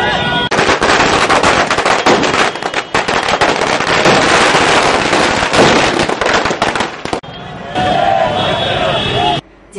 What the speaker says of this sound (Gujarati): ઠેર ઠેર આતશબાજી કરી જશ્ન